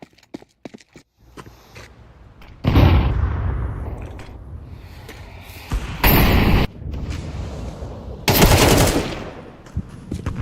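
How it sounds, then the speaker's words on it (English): In Counter-Strike 2, a grenade and then a flashbang go off: a few faint ticks, then a loud, rumbling explosion, a sharp bright burst, and another loud blast near the end, with no voices. "Throwing a grenade. Maybe middle. Throwing flashbang."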